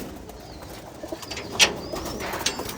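Pigeons coo softly while eating their feed, with a faint bird call standing out briefly over quiet background noise.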